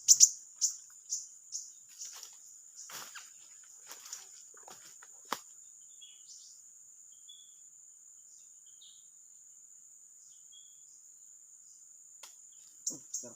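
A paraja bird gives a cluster of short, sharp chirps in the first few seconds, with a couple more near the end. A thin, constant insect drone runs underneath throughout.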